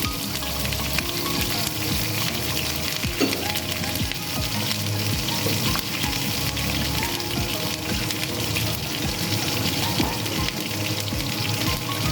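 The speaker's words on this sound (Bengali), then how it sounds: "তেলটা গরম হয়ে গেছে, এবার আমি কেটে রাখা পটলগুলো ভেজে নেব।" Cut pointed gourd pieces frying in hot mustard oil, a steady broadband sizzle and crackle running throughout at moderate loudness, with faint watery hiss and no talk over it.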